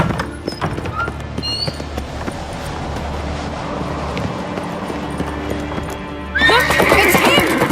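Horses in The Witcher 3 game clop along at a run, with a loud whinny near the end over the hoofbeats.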